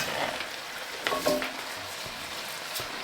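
Beans being stirred into bacon soup in a pot on a wood cookstove, a soft scraping and sloshing stir with a faint sizzle underneath and a few light clinks, close and quiet.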